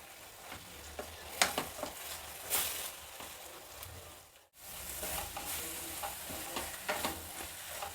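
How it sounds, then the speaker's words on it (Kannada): Poha with salt roasting in a pan over a low flame, a steady soft sizzle with scraping strokes as it is stirred, broken by one brief gap of silence before the stirring resumes. "ಸಣ್ಣ ಉರಿ ಇಟ್ಕೊಂಡು ಇದನ್ನು ಹುರಿಬೇಕು"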